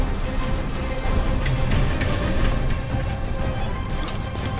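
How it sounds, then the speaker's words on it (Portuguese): Steady, dense rain hisses and patters in the Call of Duty Vanguard video game, loud and continuous throughout, with a faint clink near the end. "não dá pra ver nada por causa da chuva"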